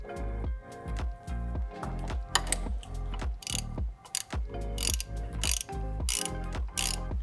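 Ratchet wrench turning a reverse-threaded 17 mm oil pump nut on a BMW S54 engine, giving a rhythmic series of close, crisp clicking strokes with brief pauses between swings.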